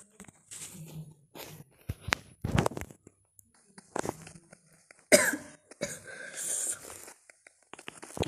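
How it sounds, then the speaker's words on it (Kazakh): A person who is ill coughs in several separate bursts, with short quiet gaps between them in an otherwise quiet room. The coughs are fairly close, and one throat-clearing sound stands out. "ауырып жатқан соң жөтеліп жатқаным ғой"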